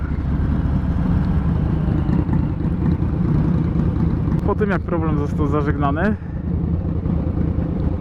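A Harley motorcycle engine runs with a steady low rumble throughout while someone speaks over it partway through.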